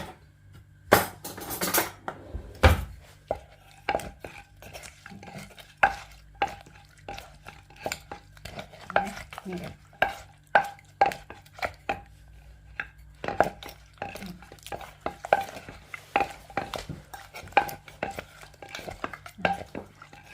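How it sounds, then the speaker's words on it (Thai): A pestle pounds and mixes papaya salad with fermented fish sauce in a mortar. Repeated sharp, close knocks fall in an uneven rhythm, with scraping and stirring between them, and no talk over the sound. "ตำเลยจ้ะ คลุกให้เข้ากัน"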